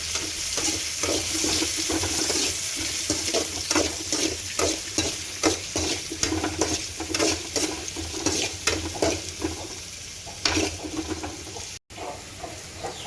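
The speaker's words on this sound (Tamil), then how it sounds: "வெங்காயத்தை சேர்த்து நல்லா வதக்கிக்கலாம்" Onions sautéing in a pan for samba wheat kichadi, a constant close sizzle broken by repeated stirring scrapes and clinks from a spoon, busier in the first half and thinning toward the end.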